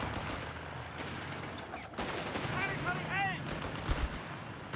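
Machine gun fire in the video game Company of Heroes 3 during a 2v2 match, continuous rattling bursts amid a cluttered battlefield mix, with commentary talk over it.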